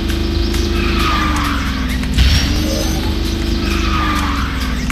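Kart drifting in the racing video game KartRider: a steady, loud engine drone with a sliding skid tone that bends in pitch through the drift, plus a brief thump midway, with no talking.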